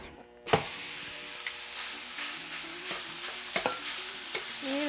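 Meat for Mexican street tacos hitting a hot pan, a sudden sizzle that settles into steady close frying, with occasional scrapes and clicks of stirring, no voices.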